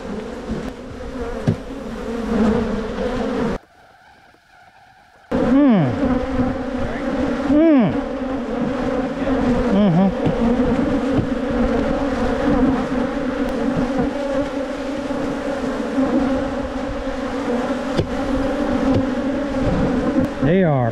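Big swarm of honey bees buzzing loudly and continuously up close, a dense droning hum with individual bees whizzing past the microphone, broken by a short muffled gap.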